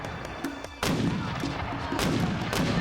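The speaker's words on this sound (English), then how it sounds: "The Texans open fire using the terror tech of the time: smoothbore muskets, plains-style rifles," Black powder gunfire from smoothbore muskets, plains-style rifles and single-shot pistols booms out in a sharp volley, a few distinct loud reports over a rumbling, dense backdrop.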